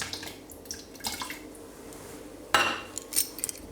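A spoon stirs cream curd in a bowl, making soft, irregular clinks and scrapes with wet squelching. One sharper, louder clatter of spoon against the bowl lands midway, followed by a few more light taps.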